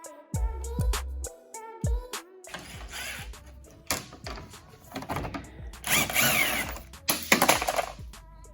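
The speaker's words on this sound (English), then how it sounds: "see if we can get that clamp off." A power tool works an intercooler pipe hose clamp on a 2011 Hyundai Genesis Coupe 2.0T, with a few short whirring bursts followed by ratcheting and metallic rattling, close and fairly loud.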